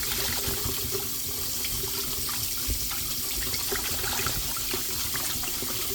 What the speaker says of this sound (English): Swish around the rice.